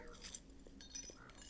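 Small chunks of confetti art glass clink together in light, scattered taps. The sounds are quiet and close by.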